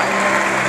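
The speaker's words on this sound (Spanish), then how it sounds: "Denle un fuerte aplauso a ese Dios maravilloso" A church congregation bursts into loud, dense applause that fills the whole brief moment, a continuous wash of many hands clapping together.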